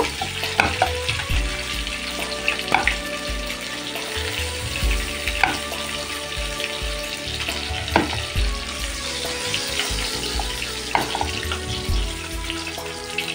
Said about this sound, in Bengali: মাছগুলো কিন্তু আমার ভাজা হয়ে গেছে। এখন আমি একটা একটা করে মাছ সব তুলে নেব।